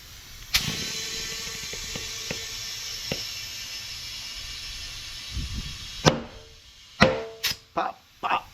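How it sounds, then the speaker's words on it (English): A bicycle tire fitted with a Schrader valve hisses steadily as it inflates. The bead then seats onto the rim with several sharp, close pops in quick succession near the end. "Pop. Love that sound."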